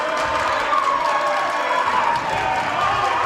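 Crowd at a Bighorns vs Seattle Super Hawks basketball game, a steady, fairly loud wash of cheering and clapping filling the arena throughout, with no clear individual voices.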